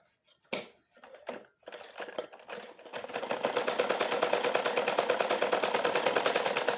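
A sewing machine stitching a plain blouse: a few separate clacks and short bursts, then a continuous rapid mechanical rattle that builds and holds steady, close and moderately loud.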